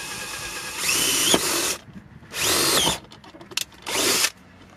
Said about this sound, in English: Using a half-inch drill bit, go to the top left corner of the shroud and drill